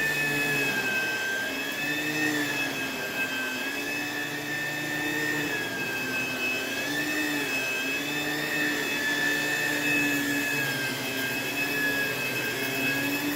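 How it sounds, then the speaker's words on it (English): A vacuum cleaner runs over carpet during a cleaning job, a steady moderate whine with slowly wavering pitch throughout, no talking. "Let's begin vacuuming here."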